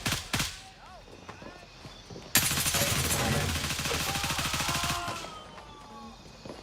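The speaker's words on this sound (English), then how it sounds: "That's called mag dumping." Rapid burst of video game automatic gunfire, a mag dump emptying the whole magazine, runs loud and continuous for about three seconds, set between quieter stretches of background game sound.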